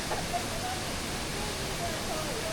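Bidulginang waterfall pours over hard basalt rock that erosion is slowly cutting back upstream. It gives a steady, broad rushing roar that stays even throughout, with a faint voice speaking over it.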